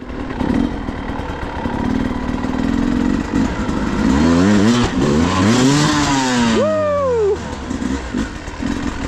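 A motorcycle engine revs repeatedly during a trials skills ride, rising and falling pitch sweeps up close over a constant rumbling idle, with a sharp climbing rev near the end.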